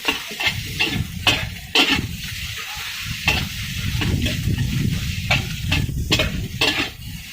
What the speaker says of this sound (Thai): ผัดจ้า